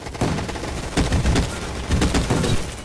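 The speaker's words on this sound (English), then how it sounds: "No, I'm getting shot." Rapid bursts of gunfire crackle in repeated volleys during a Roblox Gunfight Arena match, loud and close with short pauses between bursts and no talk.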